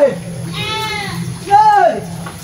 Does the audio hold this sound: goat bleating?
yes